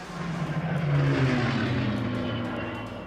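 Heavy model aircraft flying in synchro formation, engines droning steadily with pitch slowly shifting as the planes pass, moderately loud and continuous without talk.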